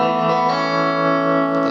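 A sustained electric guitar chord rings out, shimmering with a pulsing tremolo and a wash of reverb, steady and loud throughout.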